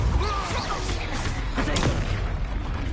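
Hogwarts Legacy combat with Depulso and other spells cast in rapid succession, layered whooshes, booms and crashes over constant battle noise, with game voices and effects crowding the mix.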